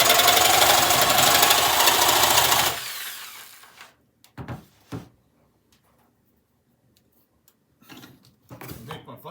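A Hychika reciprocating saw runs loud and close with a buzzing, rattling drone under load, then winds down and stops, followed by quiet knocks and handling sounds.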